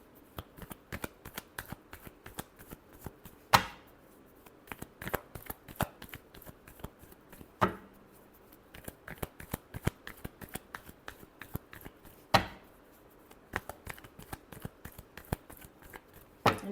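Tarot cards are shuffled close up, a quiet, steady patter of riffling flicks broken every few seconds by a sharper snap as the deck is squared, with no talk.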